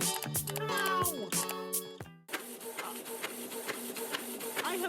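A printer running while printing: a few loud harmonic tones and clattering, then a steady, broad mechanical whirring and rattling that carries on to the end.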